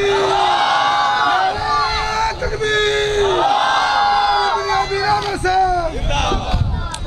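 A crowd roars back in unison with loud, rhythmic religious chants answering the Nara-e-Takbir call at a devotional gathering, sustained shouted phrases rising and falling over several seconds, close and full.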